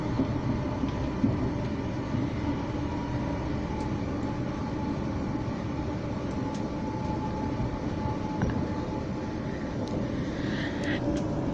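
Steady rumbling roar of a train in motion, continuous and fairly loud, with faint squeals and clicks rising near the end.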